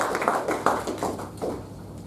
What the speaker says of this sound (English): once again give a round of applause